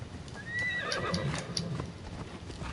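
A horse in the Assassin's Creed video game whinnies loudly and then clip-clops nearby, its neigh rising and falling over a steady bed of game ambience.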